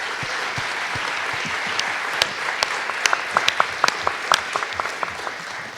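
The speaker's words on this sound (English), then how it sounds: "I think we should at least give them a round of applause." An audience at a Rotary candidate forum in Erie, Colorado claps for the candidates, a dense steady wash of applause with scattered sharper individual claps, fairly loud and continuous throughout.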